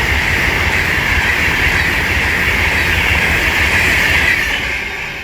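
Train 39119 rumbles steadily past at Watford Junction on the West Coast Main Line, a loud continuous roar with a high whine that eases slightly at the end.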